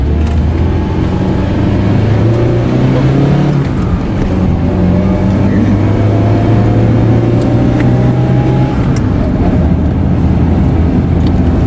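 A car engine revs hard, rising and falling in pitch through several strong sweeps, loud and close throughout with no other sound.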